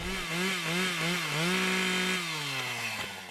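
A forestry felling chainsaw cutting big timber runs close and loud in woodland, its engine pitch wavering up and down as it bites, then settling and slowly dropping.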